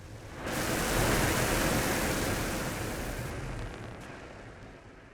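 A steady, broad roar of a rocket launch in the space-program game Mars Horizon swells in, holds loud and dense for several seconds, then eases off, with no voices over it.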